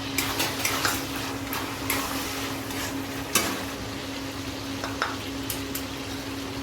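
Spices for Punjabi-style chana masala frying and being stirred in a pan, a steady sizzle with a faint hum and occasional scraping clicks of the spoon, close and continuous.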